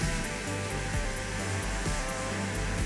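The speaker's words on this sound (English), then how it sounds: "So with the heat gun again" A heat gun warming vinyl wrap on a VW T5 bonnet, a steady close hiss of blowing air with a hum underneath, continuous and fairly loud, with no talk.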